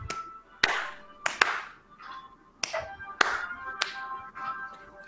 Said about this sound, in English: Slow clap it out.